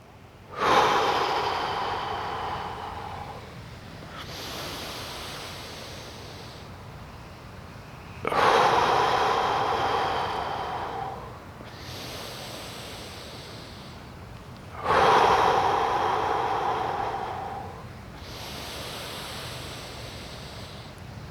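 Slow, deep breathing during a yoga breathing exercise in a fitness class, heard as three long, loud inhales, each followed by a softer, drawn-out exhale, close to the microphone.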